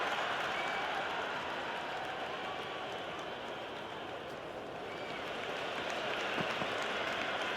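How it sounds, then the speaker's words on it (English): Roaring crowd noise from the cricket video game Cricket 26 during an India versus England one-day international run chase, a steady dense wash of cheering and applause held at an even level throughout. "The crowd is electric right now."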